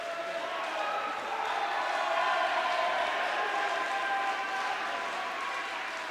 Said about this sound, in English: the figure got drowned in the applause